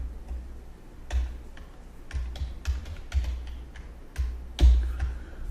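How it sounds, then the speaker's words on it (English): Someone types G-code on a computer keyboard in CNC motion-programming software. Soft, irregular key clicks come in small clusters with brief pauses, moderately close, and no voice is heard. "So as I start typing in it"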